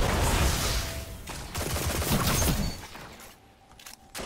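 Rapid bursts of weapon fire from a fast-firing gun in Destiny: The Taken King, a dense crackling fusillade that runs for a few seconds and then briefly drops away.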